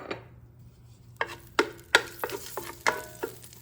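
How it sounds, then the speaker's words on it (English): Whole spices sizzling in sunflower oil in a pan, with a low frying hiss under a series of sharp metallic spoon clinks and scrapes against the pan, close up and without talking. "I'm going to add a little oil. I'm using sunflower oil. I'm going to use the whole spices in it."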